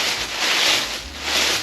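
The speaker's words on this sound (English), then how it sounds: "I always have to rip the paper open" Paper wrapping on a sewing subscription box is ripped open in two close, loud tearing pulls, with no voice over them.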